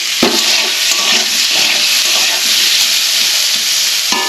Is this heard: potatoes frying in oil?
yes